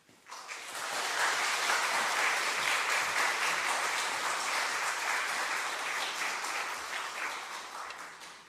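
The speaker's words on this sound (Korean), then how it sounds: "이 시간 나올 때 큰 박수로 환영해 주시기 바랍니다." A church congregation gives a pastor a warm welcome with sustained applause, rising quickly and holding as a dense wash of clapping before tapering off slightly at the end.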